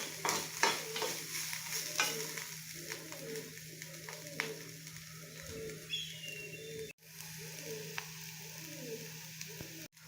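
Bitter gourd sautés in coconut oil in a home kitchen in Kanyakumari. Close, steady sizzling mixes with repeated spatula scrapes and clacks against the pan, and a faint bird coos in the background.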